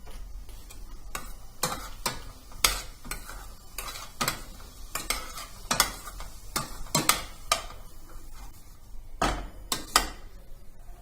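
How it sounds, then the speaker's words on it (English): Something fries gently in oil in a pan for lasagna, a soft sizzle underneath repeated sharp scrapes and clicks of a utensil stirring against the pan, close and fairly quiet, with no speech. "It just have to fry a little bit with the oil."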